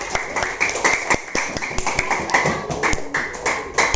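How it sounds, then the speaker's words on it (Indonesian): Students in a classroom give a round of applause, a close, brisk patter of many hands clapping unevenly for a few seconds, with faint voices underneath. "kasih tepuk tangan dulu buat dia"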